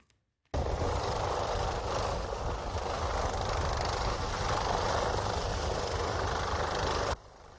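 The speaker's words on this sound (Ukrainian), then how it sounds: "Аби їх евакуювати, задіяли вертоліт." A steady, loud helicopter rotor drone with engine whine, evacuating skiers from a stalled ski lift at the Cervinia resort in Italy, continuous for several seconds after a brief silence, then cutting off to a quieter hum.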